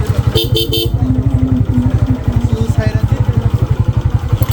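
A Honda CG 125 Japan motorcycle idles near a river ghat with a loud, rapid, pulsing single-cylinder beat, while a couple of short horn toots sound early over the engine.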